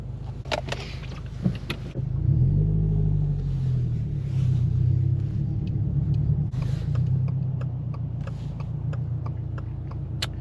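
A tuned Subaru WRX cruising on an overcast day: a steady low engine drone and road rumble inside the cabin, with light clicks and rattles on top and no talking.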